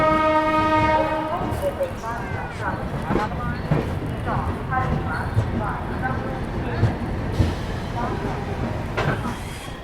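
Dehradun Express pulling out of Hazrat Nizamuddin railway station in Delhi, with a horn blast at the start, then steady rumble and rhythmic clatter of the wheels, while a voice talks over it.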